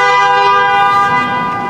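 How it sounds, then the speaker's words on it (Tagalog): A 2024 Hyundai Santa Fe 2.5L horn sounds in one loud, sustained blast, steady throughout and heard alone at close range. "Ang horn naman, i-test natin."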